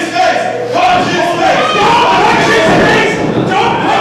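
A wrestling show crowd shouts and roars loudly and continuously at a professional wrestling event.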